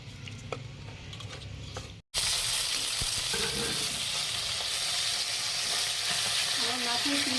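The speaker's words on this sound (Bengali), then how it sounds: "এইভাবে করে আমার মতো তেল মাখিয়ে নিয়ে বোয়াল মাছ ভাজবেন" Pieces of boal fish, rubbed with oil, fry in hot oil in a pan, giving a loud, continuous sizzling hiss with faint crackles, interrupted by a brief moment of silence before the sizzle resumes, steady and close.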